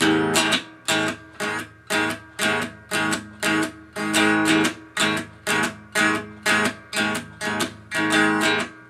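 An electric guitar strums a steady rhythm of short, choppy palm-muted chords from a song, each cut off quickly, loud and close.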